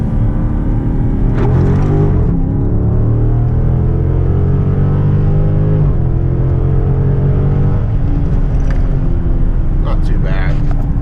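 Dodge Charger accelerating hard in second gear from about 40 mph with traction control off, the engine note climbing steadily and loudly from inside the cabin, with a brief shift-like break midway.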